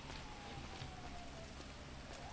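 Steady rain falling in the GTA FiveM video game, a continuous even hiss of drops with a faint tonal hum running through it, no talk.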